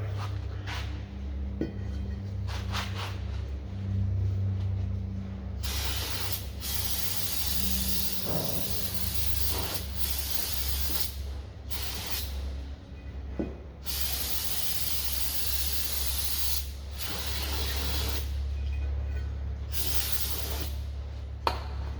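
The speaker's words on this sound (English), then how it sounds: "get some brake cleaner to clean off any residue that's on the rotor" Brake cleaner sprayed onto a front brake rotor of a 2015 Hyundai Genesis during a pad and rotor job, giving repeated loud aerosol hissing bursts over a low steady background hum, with no talk.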